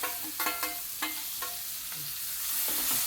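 Spices frying in hot oil for a Telugu okra fry, a soft continuous sizzle broken by several sharp scrapes and clinks of a spoon stirring against the pan, close up and with no voices.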